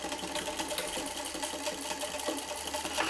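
A sewing machine stitches a polo shirt hem, running steadily and close for the whole stretch with a fast, even mechanical chatter and no voices.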